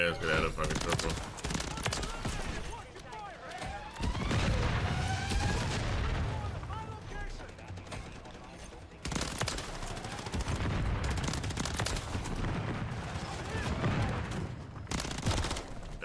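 Pistol gunfire in the video game Call of Duty MW3 comes as rapid, overlapping shots and bursts amid other battle noise, loud and nearly continuous, with a short break partway through.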